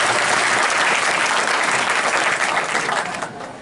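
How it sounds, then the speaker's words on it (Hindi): Loud, dense applause from a crowd at a school ceremony handing out bicycles to girls, a steady roar of clapping that eases slightly near the end. "शिवराज सिंह जी चौहान के लिए जोरदार तालियां"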